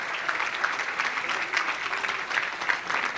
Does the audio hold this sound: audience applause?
yes